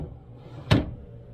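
A cabinet drawer or door in a camper closes once with a single sharp, fairly close knock midway, set against a quiet room hum.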